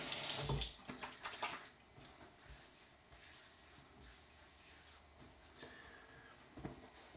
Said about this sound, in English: what I'm doing there is just wetting my hands and getting that little bit of scent off my hands